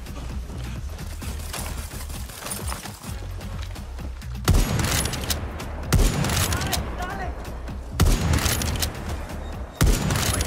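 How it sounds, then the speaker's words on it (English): Sniper rifle fire in a chaotic video game, sharp loud reports landing about every couple of seconds over a busy bed of game noise, with a voice talking at the start. "It's so hard to shoot a little rat with a sniper rifle"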